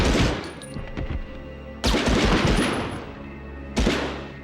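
MP40 submachine gun fire in Medal of Honor on PlayStation, three loud bursts of rapid shots, each followed by a decaying rumble, with no voices.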